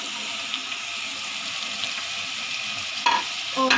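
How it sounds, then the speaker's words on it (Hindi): Potatoes and capsicum fry in oil in a pan, a steady close sizzle with stirring, then a few sharp utensil scrapes and clinks near the end. "इसको शिमला मिर्च और आलू को ऑयल में अच्छे से फ्राई करेंगे"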